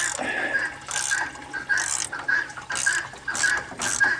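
A 5/16 ratchet loosens fan shroud bolts on a 1987 Ford F150 inline six. The clicking comes up close in several short bursts separated by brief pauses.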